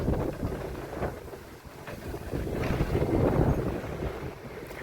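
Wind blows strongly outdoors at the coast at Keerimalai in Jaffna, buffeting the microphone with a loud, continuous low rumble that rises and falls in gusts.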